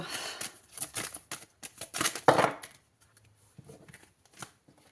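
Tarot cards are shuffled by hand in a quick run of papery riffles and flicks that is dense at first and then thins into a few soft taps, close and quiet.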